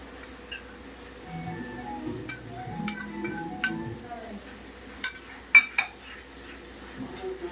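Sohan Halwa mixture stirred in a pan: soft scraping and sporadic sharp clinks of a utensil against metal, quiet and close, with faint voices under it.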